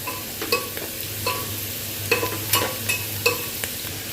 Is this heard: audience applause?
no